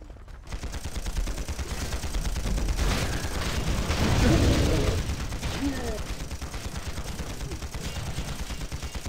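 Repeated TNT explosions and rapid gunfire in the online battle game Panzar, a dense, loud barrage of booms and crackling bursts that swells in the middle, with a voice talking now and then over the fighting.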